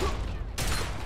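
Gunfire in the video game Fallout 3: a dense, noisy burst of shots with a sharp broadband onset partway through, loud and close, with no talking over it.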